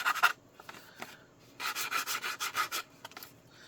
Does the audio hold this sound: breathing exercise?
no